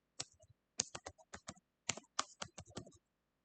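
Keys clack on a computer keyboard in quick, uneven bursts of crisp, close taps separated by brief pauses, in an otherwise quiet room.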